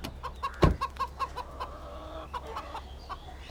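A rooster clucks close by in a village, a string of short repeated clucks with one louder knock-like sound near the start.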